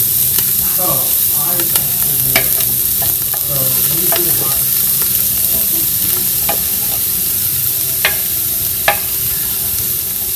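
Onion and celery sizzle loudly in a soup pot, a constant close frying hiss broken by scraping stirs and clatter, with a voice faintly in the background.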